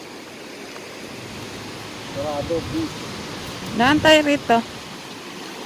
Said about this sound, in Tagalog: Wow, lakas ng alon mga my friend.